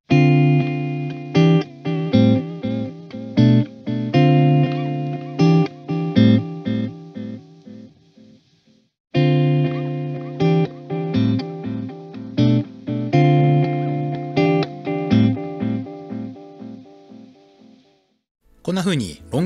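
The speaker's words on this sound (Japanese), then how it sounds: "こんな風にロングモードでテープを早く動かすとバキッとクリアな感じ、ショートモードでゆっくり動かすとより角の取れたローファイな感じになります。" Electric guitar played through a T-Rex Replicator D'Luxe tape echo pedal, first in long mode with fast tape for a crisp, clear repeat, then in short mode with slow tape for a softer lo-fi echo. Two close, loud phrases of picked notes trail into repeats.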